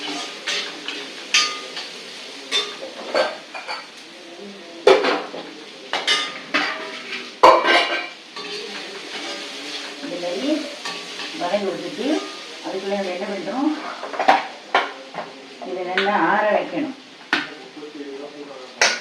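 Potatoes sautéing in a pan with salt for Tamil potato paruppu usili: steady frying hiss with frequent metal clinks and scrapes of a spoon against the pan, while a voice talks over the cooking.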